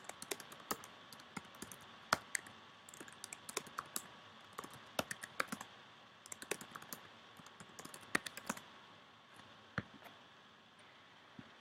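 Rapid keystrokes on a computer keyboard while signing into a Gmail account, with irregular bursts of crisp clicks and short pauses, close and fairly quiet.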